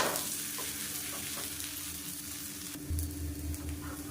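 Black urad dal dosa fries in oil on a pan with a soft, steady sizzle and crackle, heard close and alone without any voices.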